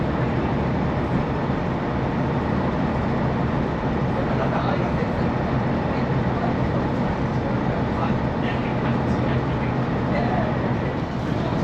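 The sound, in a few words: Great Western Railway train running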